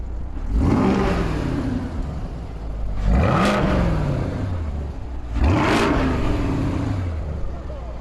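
A brand-new Chevrolet Corvette Stingray C8 revs loudly three times, each blip rising quickly in pitch then falling away, with continuous engine rumble between the pulls heard from close by inside the car.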